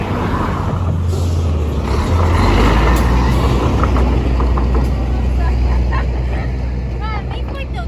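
Trucks rush fast across a bridge at night, their engines rumbling loud and close with a whoosh as they pass. People talk nearby.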